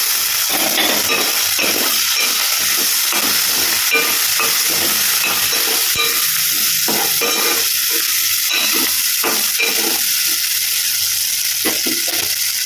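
Mushrooms and curry leaves frying in a pan, a loud, steady sizzle and hiss held throughout with irregular scraping stirs, close up and with no talking.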